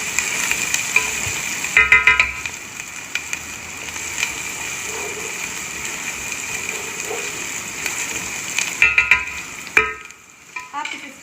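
Ginger sizzles in a pan for masala kofta curry, a steady close frying hiss broken by a few brisk scraping stirs near the start and again toward the end.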